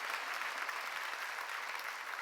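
A church congregation at a summer revival meeting bursts into applause during a sermon, a brief, dense and even wash of many hands clapping.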